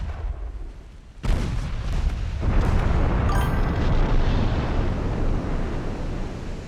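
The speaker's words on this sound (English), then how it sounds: "Torpedo detonation." A torpedo detonation in the naval strategy game Ultimate Admiral Dreadnoughts, a sudden deep boom that swells into a long, loud rumbling roar lasting several seconds, with no talking.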